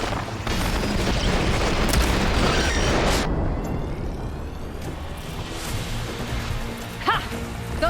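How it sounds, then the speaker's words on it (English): Barrage of shots fired in Horizon Forbidden West hits the target with a loud, sustained rumbling blast for about three seconds, then eases into a softer lingering rumble with a brief sharp hit near the end. "Fire a barrage!"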